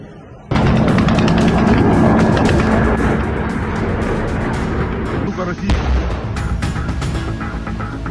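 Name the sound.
artillery shelling and explosions in war footage, Russian attack on Ukraine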